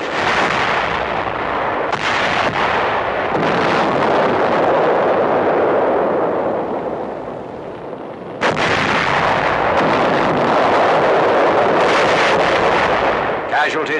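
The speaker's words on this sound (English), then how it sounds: "Explosions continue." Heavy explosions aboard the aircraft carrier USS Franklin boom and rumble continuously, loud blasts rolling one into another with a brief lull before another powerful burst.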